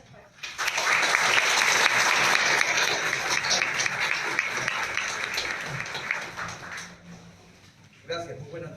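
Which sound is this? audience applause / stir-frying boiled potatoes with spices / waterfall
audience applause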